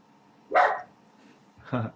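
A dog gives two short, sharp barks about a second apart, fairly close and clear against an otherwise quiet indoor background.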